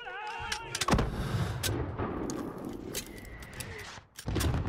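A machine gun fires in the video game Call of Duty: Modern Warfare, a dense rattling burst under heavy combat noise with sharp reports, close and fairly loud, cutting off briefly near the end.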